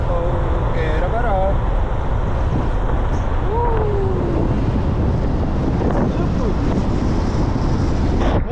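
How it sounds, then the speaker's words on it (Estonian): Ocean surf rolls as a constant broad roar on a rocky coast with sea caves. Heavy wind buffets the microphone throughout, and a few brief vocal sounds come through early on. "See on ju ookean"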